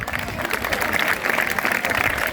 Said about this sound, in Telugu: అందరు చప్పట్లు కొట్టండి